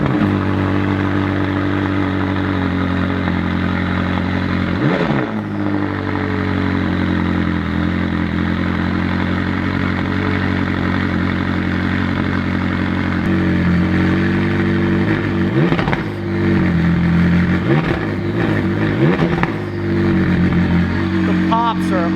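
A McLaren MSO HS supercar firing up and revving, its engine holding a loud, steady idle broken by several sharp blips of the throttle, close by while people talk over it.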